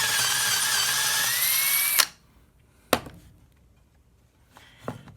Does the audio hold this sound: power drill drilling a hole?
yes